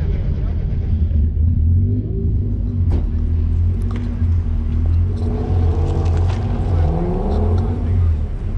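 A turbocharged D16 Honda Civic engine rumbles loudly and revs at an autocross, rising and falling in pitch, while people talk over it.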